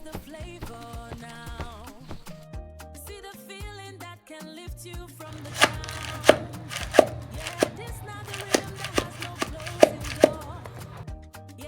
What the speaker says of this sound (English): Pounding my fufu for that smooth and authentic texture.